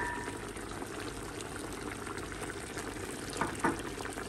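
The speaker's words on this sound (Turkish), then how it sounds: "reçelim kaynaya kaynaya güzel bir renk almaya başladı" Pumpkin jam simmers in a pot, a soft continuous bubbling with a few louder pops near the end, faint and close, with no voices.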